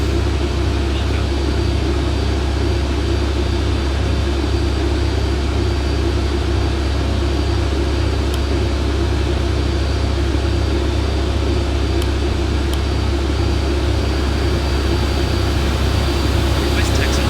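The engines of an AirBaltic A220-300 airliner in Real Flight Simulator hold a steady, loud, even drone with a deep low rumble and a broad whine that never changes across the whole stretch.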